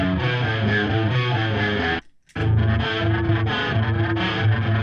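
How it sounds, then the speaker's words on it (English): Distorted electric guitar from a Marshall-style amp tone through chorus and delay pedals, with a shimmering, swirling chorus and trailing repeats, briefly cutting out near the middle before resuming. "So I have a Marshall type of thing going through a chorus pedal,"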